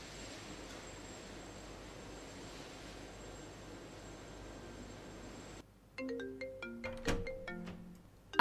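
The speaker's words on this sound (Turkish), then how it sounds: "oying telefon qilyaptilar" A mobile phone ringtone plays an incoming call, a clear melodic tune of repeated bright tones entering after a stretch of steady hiss and growing louder toward the end.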